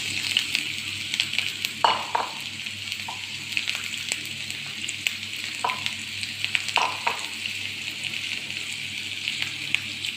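Two small sliced onions fry in coconut oil in a pot for prawn roast, giving a steady, close sizzle broken by scattered stirring clicks and scrapes. No one speaks.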